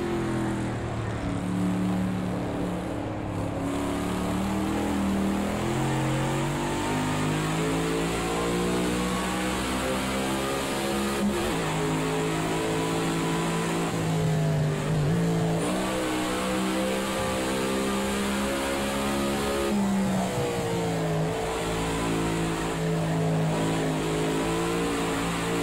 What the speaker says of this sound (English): You hear the cars on the other side of the track there.